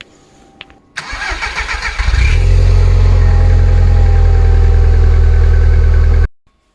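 A first-generation TT's engine cranks with a rattling starter for about a second, catches, and settles into a loud, steady rumbling idle before cutting off abruptly.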